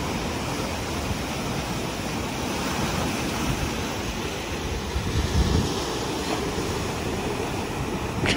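Waves washing onto a beach near Crayfish Bay on the Coromandel coast, a loud continuous roar of surf with wind buffeting the microphone and no talking.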